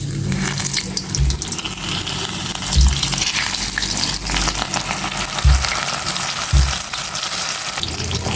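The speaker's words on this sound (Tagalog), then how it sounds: "Iprito ko na po itong lapad na dalagang bukid." Flattened red-bellied fusilier fish fry in hot oil in a pan, giving a steady loud sizzle and crackle with a few sharp low knocks, close by and with no talking.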